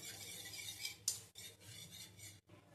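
Dry batter ingredients with ajwain and ground black pepper being mixed in a bowl: quiet scraping and rubbing strokes with a brief brighter scrape in the middle and short pauses, close and alone.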